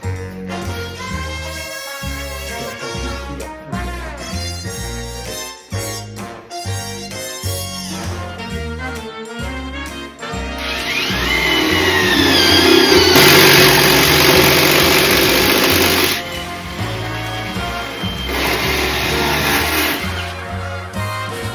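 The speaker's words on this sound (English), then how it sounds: "we're going to find the right spot to drill on up through there" A power drill bores up through a wooden floor joist from below, a loud steady whine with strained grinding that swells and holds for several seconds, then eases and picks up again.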